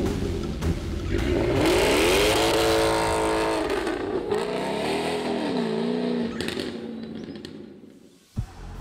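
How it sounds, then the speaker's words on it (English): A tuned 640-horsepower Jaguar F-Type R (Arden AJ23) engine revs loudly and continuously, pitch climbing and falling through several throttle blips, ending with a sharp bang. "At the press of a button, 640 horsepower awaken, and the speed madness can begin."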